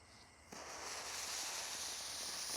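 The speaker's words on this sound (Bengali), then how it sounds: "তো গাইজ, এটা তো তুবড়ির মতন ফাটছে" A Diwali firecracker erupting like a fountain firework, starting with a sudden onset and then a sustained, faint-to-moderate hissing spray that builds and continues for a couple of seconds, heard from a short distance.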